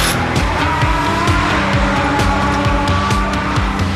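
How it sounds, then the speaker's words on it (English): A GP Masters race car with a roughly 650-horsepower engine screams loudly at close range on a circuit in Qatar, a sustained high-pitched roar with rhythmic pulsing of gear changes and possible tire squeal, no speech. "It's a good strong engine. It's got about 650 horsepower"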